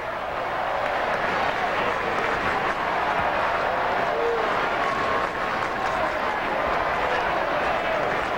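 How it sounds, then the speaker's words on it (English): A large, noisy crowd at an Oakland A's baseball game against the Red Sox fills the air with a continuous dense roar and murmur of thousands of fans, steady and loud throughout. "Crowd has been terrific. It's been large and noisy all day."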